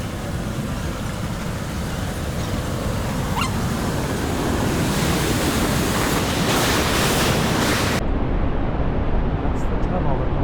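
Water rushing into a tunnel, a loud, steady broadband roar like heavy surf that fills the whole stretch with constant noise and no pauses.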